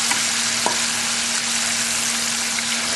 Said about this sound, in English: That's why I like deep frying, because you can get a lot of these babies in there.